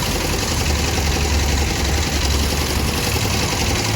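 A Rosalia Indah bus engine idles with its rear engine hood open, a dense, steady low rumble and mechanical clatter heard up close and loud, unbroken for several seconds with no talk.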